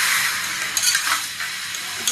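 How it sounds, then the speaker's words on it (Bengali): Bottle gourd frying in a wok gives a loud, close, continuous sizzle, with intermittent scrapes and clinks from stirring and no voices. "এই লাউ হচ্ছে ভাজা হচ্ছে"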